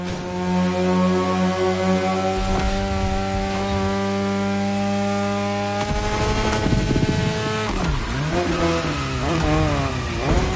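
Mazda RX-7 Turbo 2 in The Crew Motorfest, a loud buzzing rotary engine holding steady, then revving up and down through shifts in the second half, no voices.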